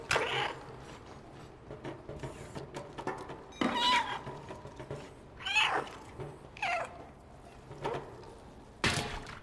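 A cat in the video game Stray gives several short meows spaced across the scene, fairly close and moderate in level, between quiet mechanical creaks and clicks in the game's background.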